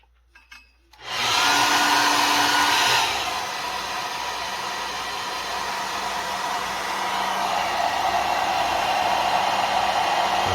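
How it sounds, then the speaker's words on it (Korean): A hair dryer switches on with a soft click and blows steadily and loudly, drying fresh base paint on a 1/35 scale figure head, its broad rushing whine holding constant for several seconds with no voices. "이거를 제가 드라이기로 잠깐 말리겠습니다."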